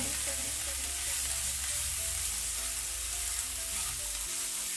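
Chicken with bell pepper, garlic powder, salt, black pepper and paprika stirred in a hot pan, giving a steady close sizzle with soft scraping stir sounds and no talking.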